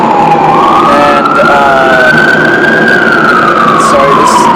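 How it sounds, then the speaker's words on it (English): Police car siren wailing nearby in a city street, a loud continuous rising and falling tone that holds for several seconds, heard over background traffic noise. "this cop siren is throwing me off"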